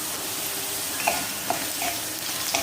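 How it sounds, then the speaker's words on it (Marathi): Mung dal frying in a pan with garlic, a steady broadband sizzle running throughout, broken by a few faint spoon taps against the pan. "पहिल्यांदा मी मुगाची डाळ फ्राय करून घेणार आहे त्याच्यावर मुगाची डाळ टाकून घ्यायची आहे"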